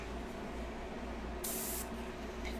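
Airbrush spraying paint or ink onto a portrait, a steady close airy hiss with a brief louder burst partway through, alone without speech.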